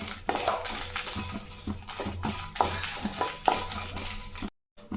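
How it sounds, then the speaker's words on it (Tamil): Dried chillies dry roasting in a pan, heard as repeated close scrapes and clinks of a spatula against metal with a faint crackle underneath, ending in a brief silence. "மிளகாய் போட்டு வறுத்துக்கலாம்."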